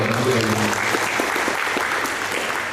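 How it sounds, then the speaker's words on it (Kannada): Steady, dense applause from a seated audience at a preparatory meeting for a cultural festival, a continuous burst of clapping with no pause. "ಅವರೆಲ್ಲ ಒಂದು ಚಪ್ಪಾಳೆ"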